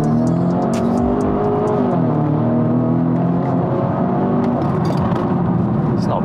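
A Stage 2 tuned BMW F30 330e plug-in hybrid making about 400 bhp accelerates hard along a country road, with loud continuous engine drone rising in pitch through the run and heard from inside the car.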